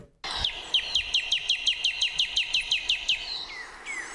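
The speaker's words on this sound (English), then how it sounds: "Northern cardinal." A northern cardinal singing a rapid series of about fifteen clear, evenly spaced whistled notes followed by a couple of slurred phrases, heard over a soft background hiss.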